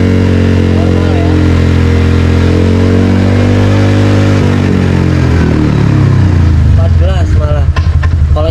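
Motorcycle engine, being worked on for a grounding cable modification, revs loudly and steadily, its pitch rising and then falling back toward idle, with people talking nearby.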